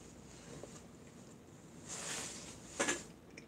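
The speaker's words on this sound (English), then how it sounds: "A little breezy though." Breezy outdoor wind on a sunny, cool day after the snow has melted, heard as a faint rushing with a couple of soft gusts buffeting the microphone.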